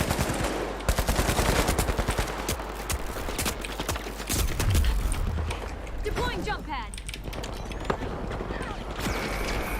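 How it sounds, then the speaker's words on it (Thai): Gunfire in the online shooter The Finals: rapid bursts of automatic shots crackle near and loud, interspersed with single reports, under game effects and background voices. "ใครยิงกูอะนี่"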